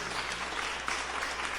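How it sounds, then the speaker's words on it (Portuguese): Dense, steady applause from a church congregation during a sermon, a continuous wash of many hands clapping at a moderate distance with no talking over it. "Quem pode aplaudir o nome do Senhor mais uma vez?"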